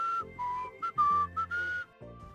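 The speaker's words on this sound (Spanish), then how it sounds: "entonces genera un sonido muy agudo al que llamamos silbido" A person whistles a short melody of clear, high-pitched notes, several separate phrases with brief pauses between them, close and alone.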